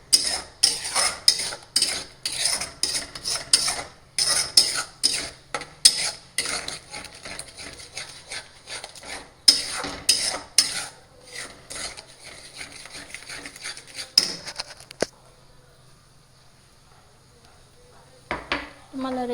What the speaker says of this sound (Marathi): व्यवस्थित त्याला मिक्स करून घेऊया आता.